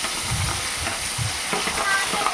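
Bitter gourd pieces fry in hot oil in a kadai, giving a steady loud sizzle and hiss with soft stirring bumps underneath.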